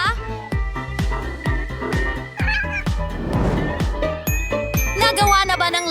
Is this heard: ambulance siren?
no